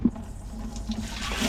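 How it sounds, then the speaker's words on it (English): Grubby rusty water draining from an old pickup truck under repair in a workshop, a close, steady liquid rush and trickle with a faint low hum behind it. "Some nice grubby rusty water."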